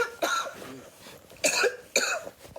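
A girl coughs in three separate harsh bursts spaced across the moment, each loud and close, with quieter breathing between them.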